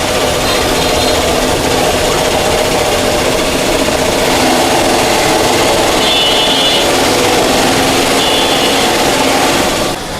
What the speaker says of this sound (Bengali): আপনার মেশিনে যে সেলাইগুলো করতেছে